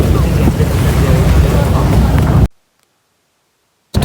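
Strong wind buffets the microphone during an open boat ride on a river, a loud steady rush with low rumble that cuts off abruptly midway into silence before briefly returning at the end.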